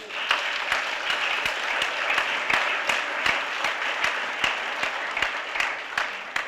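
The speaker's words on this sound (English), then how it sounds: "Let's give him another round of applause." Steady audience applause at an NAACP One Million Jobs campaign event, dense clapping with sharp individual claps standing out, sustained and fairly loud throughout with no pause.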